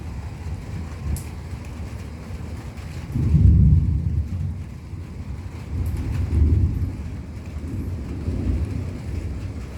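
Thunder from cloud-to-ground lightning strikes rolls in low, deep rumbles during morning rain, swelling loudly around the middle and again toward the end over a steady wash of rainfall, with no talking.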